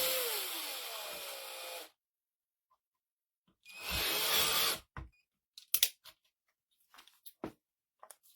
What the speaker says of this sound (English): I used my drill and put me a little hole in it.